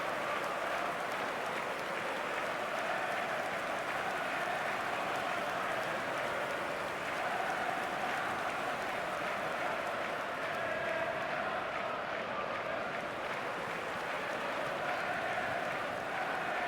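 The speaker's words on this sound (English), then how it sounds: "A sea of team colours, songs ringing down from the stands." A stadium crowd in the eFootball video game keeps up a constant dense roar of cheering and singing, steady and loud across the whole stretch with no distinct breaks.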